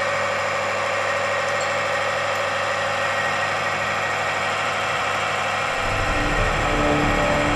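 Timken friction test machine running under load with a tungsten disulfide IF-WS2 oil additive, a steady mechanical hum and whine that turns rougher and louder in the low end near the close, no talk.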